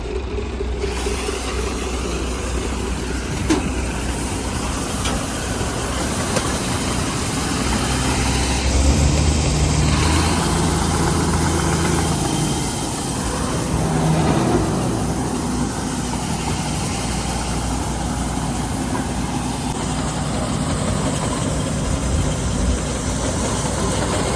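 The engine of a 23 model machine runs steadily and loudly for a long stretch, a continuous low rumbling drone with slight fluctuations and no pauses.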